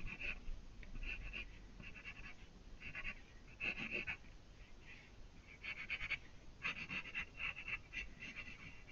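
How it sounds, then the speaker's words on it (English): A pencil sketching two small rectangles on paper, heard as short, scratchy strokes in separate bursts with brief pauses between them, close and fairly quiet. "my two little rectangles, I'm going to sketch those out"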